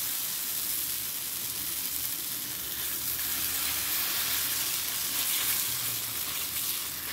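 A vegetable mixture sizzles steadily in an oiled pan, a close, even frying hiss that stays continuous with no talk over it.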